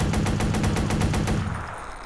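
Automatic gunfire from a Watch Dogs video game firefight, a loud rapid burst of evenly spaced shots that stops after about a second and a half, leaving a fading tail with no talking.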